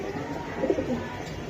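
Pigeons coo softly a couple of times near the middle, set against a faint steady background with no one speaking.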